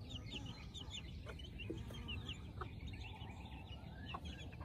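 A mother hen walking with her chicks gives soft, low clucks, with faint high chirps from the chicks over a constant outdoor background hum.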